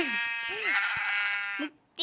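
Sheep bleating in a Minecraft-style knockoff video game, a long harmonic bleat running steadily for well over a second, then a short second bleat after a brief pause, loud and close.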